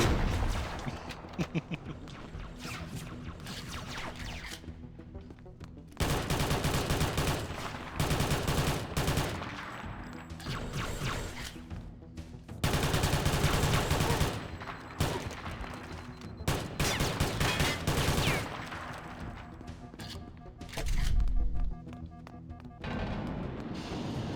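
Gunfire in Halo: Combat Evolved comes in loud bursts of rapid shots separated by short lulls, with heavy thumping blasts and an explosion-like boom near the end.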